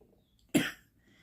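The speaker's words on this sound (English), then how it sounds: "Look, I'm coughing now." A single short, sharp cough rings out clearly in a quiet room, with near silence before and after.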